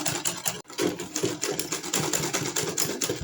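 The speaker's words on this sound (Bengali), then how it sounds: "আমি এরকম একটু করে ভাঁজ দিব আর সেলাই করে নেব।" Sewing machine stitching fabric pleats, running in a fast, even rhythmic chatter of needle strokes with one brief pause near the start, close and loud.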